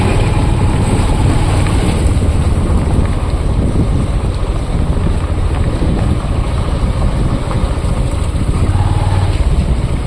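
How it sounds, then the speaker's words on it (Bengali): Steady, loud road traffic on a street leading toward Kolkata, a continuous engine and tyre roar with heavy wind buffeting the microphone and no clear break between passing vehicles. "গাড়িগুলো সব আসছে দেখছি"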